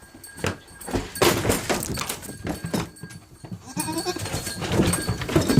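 Goats bleat repeatedly at close range amid shuffling and knocking sounds, with irregular bursts of calls over a few seconds.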